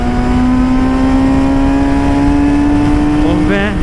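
A Yamaha R6 sport motorcycle, previously crashed, accelerates on the road with a steadily rising engine whine under constant wind roar, shifting near the end, while a rider talks over it.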